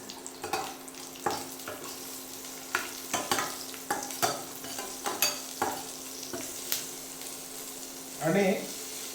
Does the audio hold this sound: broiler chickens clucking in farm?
no